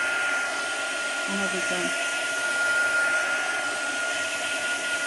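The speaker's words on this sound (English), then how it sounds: "I'm just going to use the blower a minute." A loud, steady blower roars continuously while drying a page of a book being altered and decorated, with a person speaking briefly over the noise.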